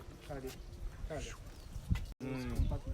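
Cows lowing inside a zero-grazing unit on a small farm, a few short moos rising over steady talk from people standing nearby.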